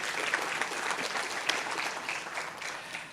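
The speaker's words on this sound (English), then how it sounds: "Carl, give him a round of applause." Audience at an annual meeting's closing session gives a round of applause, dense continuous clapping from a full room lasting a few seconds.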